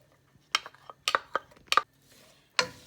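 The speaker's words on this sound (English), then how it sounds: "we're going to add the onion. And also the carrots." Chopped onion and carrots go into a pan of lightly heated olive oil, giving a few sharp clinks and clatters of utensil against the pan with quiet gaps between them. The sounds are close and fairly soft.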